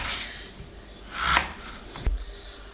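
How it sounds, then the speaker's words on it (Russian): Potatoes are diced into cubes with a kitchen knife on a cutting board, a few soft close cuts and scrapes ending in a sharp knock on the board. "Вот такими кусочками картошку буду резать."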